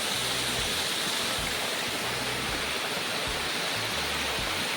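A waterfall roars in a steady, dense rush of falling water that stays loud and unbroken throughout, with no voices.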